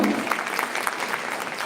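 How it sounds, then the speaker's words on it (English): Applause from a summit audience for a group of women, a steady dense patter of clapping that fills the whole stretch at moderate loudness, with no voices rising above it. "Can you have a huge round of applause for the ladies here?"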